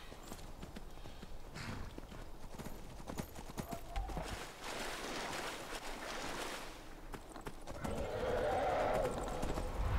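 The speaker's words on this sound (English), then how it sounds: "Get on your horse and run." Horse hooves clip-clop steadily in Skyrim, a fantasy video game, as a ridden horse runs through the game world; the rhythmic hoofbeats carry over ambient game sound, with a whinny-like swell near the end.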